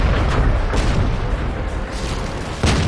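A KV-1S tank cannon fires in World of Tanks, a loud booming report over steady battle rumble, with a second sharp blast near the end.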